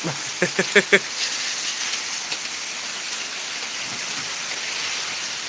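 Steady rain hissing during a thunderstorm in Pittsburg, Kansas, a constant broadband wash with a few sharp knocks early on, no voices.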